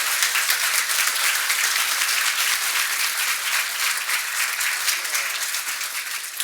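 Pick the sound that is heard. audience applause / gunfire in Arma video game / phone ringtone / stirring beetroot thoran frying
audience applause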